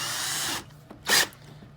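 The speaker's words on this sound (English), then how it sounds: "We're going to hook it to our cordless drill." A cordless drill spins a sanding tool against a valve seat in a short whirring burst, stops, then gives a second brief spin, close and fairly loud.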